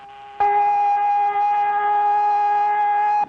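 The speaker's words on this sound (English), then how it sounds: "There is in Honolulu one person whom the sound of the siren does not bother" A steady, loud siren tone starts abruptly and holds a constant pitch for about three seconds before cutting off.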